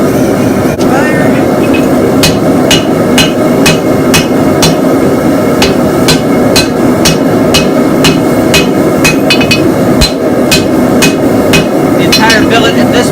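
Hammer blows ring on a forge-welded Damascus steel billet made from old saw blades, a long series of sharp, evenly paced strikes over a constant loud forge roar.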